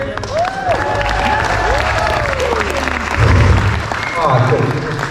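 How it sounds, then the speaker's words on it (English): Wedding guests keep up lively applause and cheering for the couple's parents, Claire and Eric, loud dense clapping with shouts and chatter woven through. "Keep that applause going."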